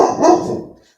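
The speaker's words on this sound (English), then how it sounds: "There's a dog barking." A single dog bark, loud and close, with a short throaty onset that fades over about a second.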